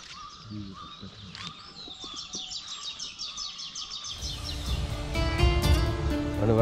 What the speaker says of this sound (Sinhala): ආන් ඉන්න කුරුල්ල සද්දේ පොඩ්ඩක්